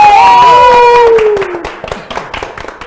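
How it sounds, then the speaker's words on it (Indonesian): A studio audience on a quiz show claps for two contestants; a sliding electronic jingle opens loudly, then scattered clapping from a small crowd continues more faintly beneath and after it. "Oke, tepuk tangan dulu untuk kedua peserta."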